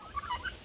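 Turkeys on a free-range farm raised on homemade feed give short gobbling calls, a few brief rising bursts over steady low farm background noise, moderately loud with no talk.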